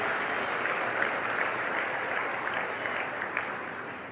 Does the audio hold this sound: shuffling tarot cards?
no